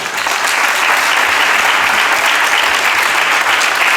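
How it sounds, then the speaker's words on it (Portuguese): Steady, loud applause fills the hall at an authors' gala as the audience claps for a contest winner, a continuous dense wash of hands with no pause. "peço uma salva de palmas para o vencedor, que é Manuel Andrade Ribeiro Góis, com a obra Patrick"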